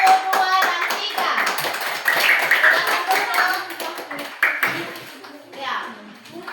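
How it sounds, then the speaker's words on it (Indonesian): A class of children claps for student groups in a classroom, a burst of scattered hand claps right at the start that thins out over a few seconds as a teacher and children keep talking. "tepuk tangan dulu buat kelompok 1, 2, dan 3"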